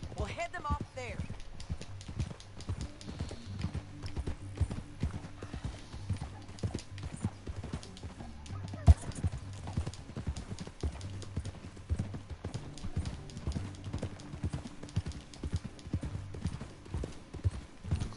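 Horse hooves clip-clopping steadily in Red Dead Redemption 2, a continuous rhythmic trot under game music and a whinny, with characters talking over it throughout.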